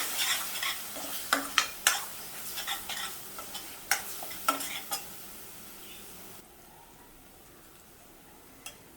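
Red chilli powder, garam masala, coriander, turmeric and cumin powders stirred in hot oil in a pan for methi matar malai, a quiet sizzle under repeated sharp scrapes and taps of a spoon that fade out near the end.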